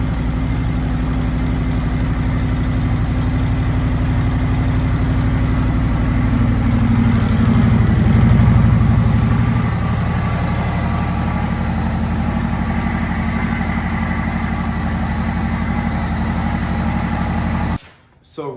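A Harley-Davidson Touring motorcycle idles through a modified, muffled stock exhaust converted to 2-into-1, making a loud, steady low rumble that runs nearly the whole time before cutting off abruptly near the end.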